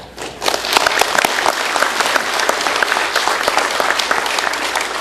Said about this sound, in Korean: 우리 모두 오늘 힘찬 박수 한번 부탁드립니다.